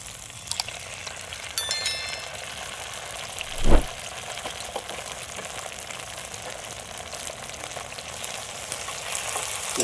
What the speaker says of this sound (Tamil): இது போன்று வந்து பச்சை வாசம் போகிற வரைக்கும் நல்லா வதக்கிக்கலாம்